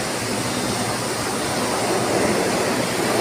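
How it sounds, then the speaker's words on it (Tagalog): Floodwater rushes steadily in a continuous, dense wash of noise, close and loud with no pauses or voices, a broad roar like a torrent or heavy runoff. "hindi ko inaasahan na babaha pala ng ganito"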